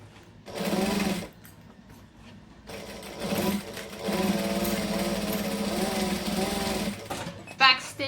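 A sewing machine stitches a camera bag in short bursts, a quick run first and then a longer steady whir, close and fairly quiet, with a few small clicks at the end.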